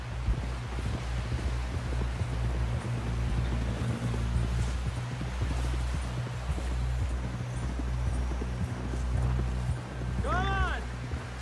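Galloping horse hooves in the video game Red Dead Redemption 2, a steady rhythmic drumming that runs through the whole stretch under wind and game ambience, with a brief whinny near the end.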